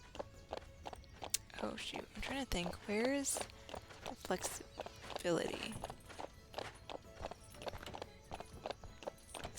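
A horse in the video game Ranch of Rivershine walks along with a steady clip-clop of hooves, one brief whinny in the middle, while a person talks over it.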